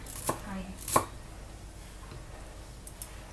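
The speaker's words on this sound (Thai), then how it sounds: "หั่นใส่ลาบนะ" A knife chopping vegetables on a board for Thai chicken larb, with a few distinct sharp chops spaced apart, fairly close, amid quiet room noise.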